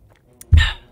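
A single close gulp of water swallowed during a pause in gaming, a short low throat sound with a brief wet tail, alone against quiet room background.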